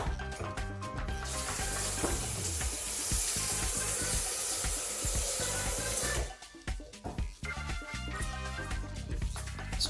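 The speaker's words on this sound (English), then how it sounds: "Then we get the water." Water poured into a soup maker with vegetables inside, a steady splashing rush for about six seconds that then breaks into trickles and small knocks, close and with no talk.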